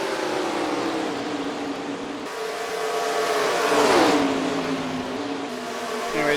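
Race car engines in the NASCAR Racing 2003 video game at Nashville, loud high-pitched whining revs that swell as cars pass close, pitch sliding up and down, with a faint tire squeal.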